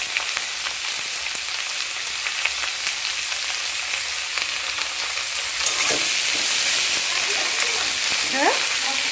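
Mixed vegetables frying in a pan with a little salt for a vegetable dal give a loud, steady close sizzle that runs throughout, with occasional stirring scrapes and a short voiced sound near the end.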